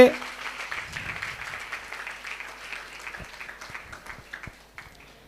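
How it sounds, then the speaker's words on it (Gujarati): Applause from an audience for the cast of a stage drama performed in an upashraya courtyard, a dense patter of claps that starts strong and gradually thins out, with a few sharper individual claps near the end. "હવે ફરી એકવાર જોરદાર તાળીઓથી આપણા બધા જ કલાકારો માટે."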